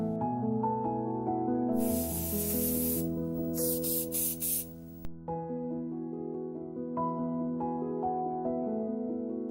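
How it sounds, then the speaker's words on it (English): Two short bursts of chocolate cooling spray hiss over background music, the first a sustained spritz and the second a few quick pulses. "chocolate cooling spray"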